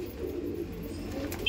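A pure Saharanpuri pigeon coos nearby in a low, steady, rolling murmur, alone and unbroken.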